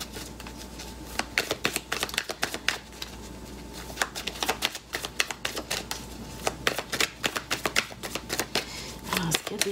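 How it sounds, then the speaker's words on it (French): A deck of tarot cards shuffled by hand in a steady series of quick riffling, flicking bursts, close and crisp, repeating for nearly ten seconds with no talking. "Pendant que je brasse les cartes"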